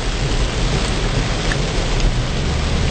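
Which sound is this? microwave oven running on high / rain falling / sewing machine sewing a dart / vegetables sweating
rain falling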